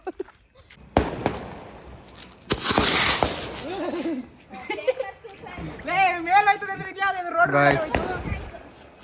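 A firework rocket and firecrackers set off outdoors, with a sharp crack, then a loud burst of hissing blast noise, while excited voices shout and chatter around it.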